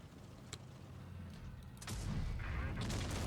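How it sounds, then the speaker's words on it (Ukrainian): A sharp heavy tank cannon blast from a WZ-132-1 in World of Tanks Blitz booms out after a low rumbling engine hum, followed by mechanical clanks, all fairly quiet overall. "Це був останній постріл на 325"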